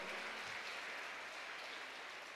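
A church congregation claps steadily, a dense, even wash of applause filling the room without pause, fairly distant and with no voices heard over it.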